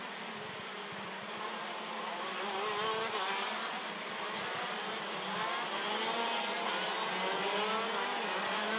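Racing karts on their formation lap during a Karting Champions League winter series round: a continuous, fairly loud buzz of several small engines droning together, rising and falling slightly as they pass, with no talk.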